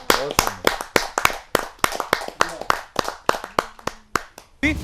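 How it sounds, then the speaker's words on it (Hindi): Rhythmic group clapping at a Hindi poetry gathering, loud, distinct claps in a quick steady beat, with a voice briefly audible near the end. "जोरदार ताली के साथ"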